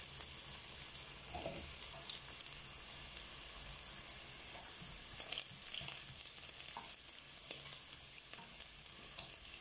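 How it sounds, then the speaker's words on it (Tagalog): Garlic frying in a pan for soup, a continuous quiet sizzle with scattered scrapes and taps of a spoon as it is stirred, heard alone with no voices. "Haluin natin guys yung bawang para medyo mag brown lahat."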